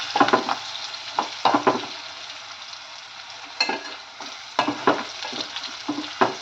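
Crushed garlic sizzles in hot oil in a pan while a spoon stirs it in several quick bursts of scraping, loud and close, with a steady frying hiss underneath and no talking.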